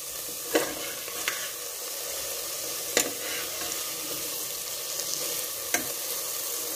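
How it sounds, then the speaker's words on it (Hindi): Sweet potatoes with nuts being stirred in a pan over low flame, a quiet continuous sizzle punctuated by a handful of sharp spoon knocks spaced a second or more apart, close and without talk. "इसमें नट्स वगैरह डालकर अच्छे से एक दो बार चला लें"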